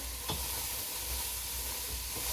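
Brussels sprouts browning in a pot give off a soft, steady sizzle and hiss, faint and continuous, with a quick clink of stirring near the start.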